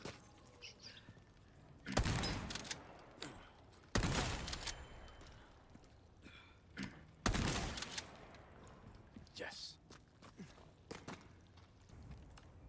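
A shotgun fires at rats in the video game Resident Evil 4, with three loud, close blasts spaced a few seconds apart, plus smaller clicks and scuffles between them over a quiet background.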